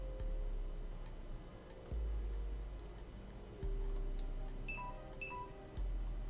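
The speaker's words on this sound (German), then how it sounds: "Das war mein Handy." A mobile phone gives off short electronic tones and beeps, a few brief notes in quick succession over a steady low hum, faint in the background.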